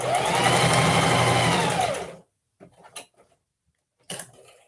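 A sewing machine runs a steady, fast stitching burst on scrap fabric for about two seconds, then stops, followed by a few faint clicks and handling noises.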